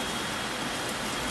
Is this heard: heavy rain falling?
yes